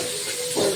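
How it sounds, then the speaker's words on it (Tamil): Onion and capsicum sautéing in a home pan as macaroni pasta is made, giving a steady, close sizzling hiss with a slight swell near the end and no speech. "ஆனியனும் கொடை மிளகாவும் ஒன்றா போட்டு வதக்கிடணும்"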